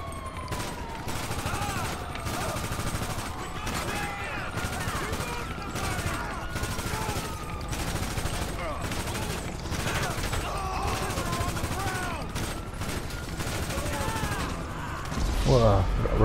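Rapid bursts of AK-47 fire in a video game, dense repeated shots over continuous game noise and a siren-like tone, with a player's voice talking over the action.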